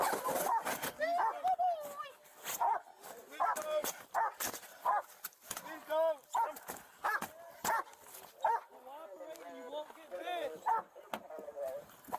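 A police dog barks and yelps repeatedly in a roleplay video game, in loud, irregular bursts that carry on throughout while people talk over it.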